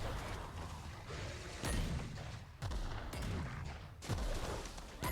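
Grenade blasts in the sci-fi shooter game The Outer Worlds, several loud booming bursts at roughly one-second intervals with sharp onsets and low rumbling tails, over a steady bed of game noise.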